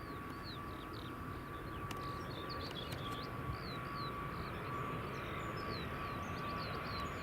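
An Aer Lingus airliner landing at Edinburgh Airport, a broad continuous engine roar held at an even level, somewhat distant, with faint birdsong chirps over it.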